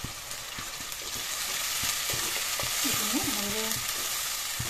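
Ground spices (turmeric, salt, coriander, cumin and chili powder) fry in a pan with a soft, continuous sizzle, while a voice speaks briefly over it.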